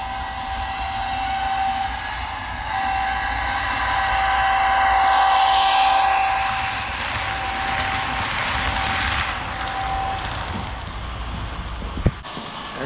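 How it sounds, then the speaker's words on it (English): An HO-scale model train locomotive with onboard sound plays a rhythmic chugging steam effect and a steady tone, swelling in loudness as it runs along the layout. "I got the sound on her right now. She's chugging."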